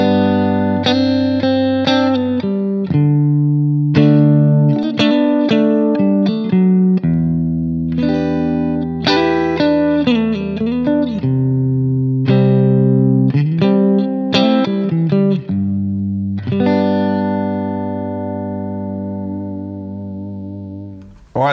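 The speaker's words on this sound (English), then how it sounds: "that was the Bugera G20 Infinium All Tube Class A 20 Watt Guitar Amp" Distorted electric guitar played through a Bugera G20 Infinium all-tube Class A 20-watt amp head, chords and single notes with chorus and reverb, loud and continuous with no talking.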